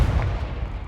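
A Confringo fire spell blast in Hogwarts Legacy, a single short booming burst close by that fades into a low rumble within a second.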